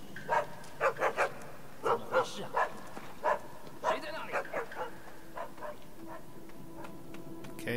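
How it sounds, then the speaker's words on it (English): Dog barking in the video game Assassin's Creed Chronicles China, a series of sharp repeated barks in quick bursts with short pauses, fading to fainter yips toward the end over quiet game ambience. "so there's a dog."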